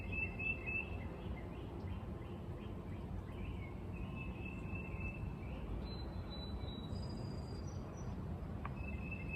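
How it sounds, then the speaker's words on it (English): Wild birds singing outdoors in nature, faint scattered chirps and short whistled calls drifting in from a distance over a constant low ambient hum. "You can hear lots of different birds out here today."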